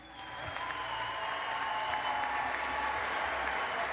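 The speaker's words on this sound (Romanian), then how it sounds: "Vă rog câteva aplauze." Applause in a hall at a boxing gala, a crowd clapping steadily and building slightly in volume, with a faint sustained tone running underneath the dense clapping.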